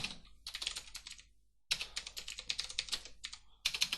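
Typing on a computer keyboard while entering text in LibreOffice Writer, with close, quiet bursts of rapid key clicks broken by a short pause in the middle.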